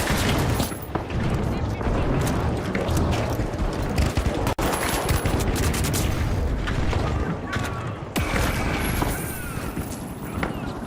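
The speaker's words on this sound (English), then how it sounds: "The machine gun heavy." A heavy machine gun rattles in a video game, a dense, continuous fusillade of booming shots running throughout with brief dips, while voices talk underneath.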